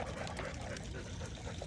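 Water poured to fill a dog's water bowl, a steady close splashing, trickling stream running throughout the brief moment.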